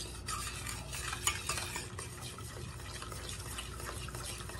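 Cocoa powder stirred into melted butter in a pan for a Texas chocolate sheet cake: a continuous, fairly quiet scraping and swishing with small clinks of the utensil, steady throughout and without talk.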